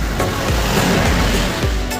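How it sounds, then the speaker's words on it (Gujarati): A mountain waterfall in Kerala pours down with a loud, continuous rushing roar that fills the whole stretch with no talk. "આ એ વોટરફોલ જેમાં પાણી પડી રહ્યું છે"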